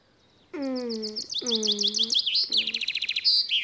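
A cartoon bird chirps loudly and close to wake a donkey, sounding two long whistled calls with quavering overtones, then a rapid series of bright, rhythmic tweets and trills, with no speech.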